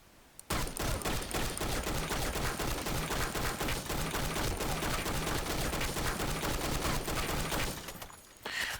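NX rifle in the Blackshot shooter game, fired in sustained rapid bursts for several seconds, loud and dense with no talk over it.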